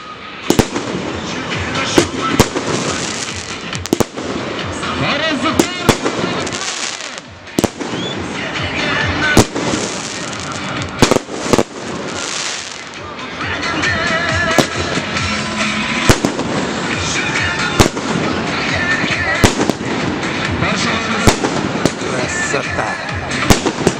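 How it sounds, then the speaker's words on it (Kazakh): A festive fireworks display for the May 9 holiday in Taraz bursts repeatedly with loud, irregular bangs and crackles, while onlookers talk intermittently underneath. "и на этот салют"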